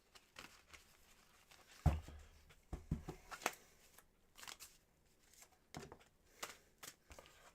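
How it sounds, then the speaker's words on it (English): A deck of tarot-style cards is shuffled by hand at close range, giving soft irregular riffles and slaps with pauses between bursts, fairly quiet overall. "I'm going to start to do that magical healing, cleansing shuffle for you real quick here"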